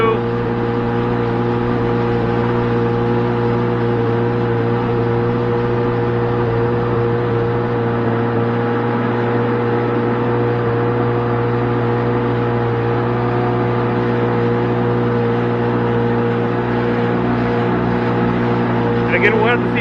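A Yamaha FX SHO waverunner engine drones steadily while speeding on water but not yet planed out, giving a loud, continuous hum with even tonal layers for the whole stretch.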